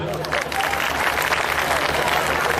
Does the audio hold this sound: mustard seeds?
no